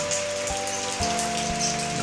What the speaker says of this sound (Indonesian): Ini mumpung hujan dulu. Ya. Ini hujan.